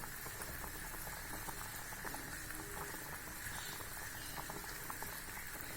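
Kulambu curry with lentil dumplings simmers in a wide pot, giving a faint, continuous bubbling and soft popping patter with no voices.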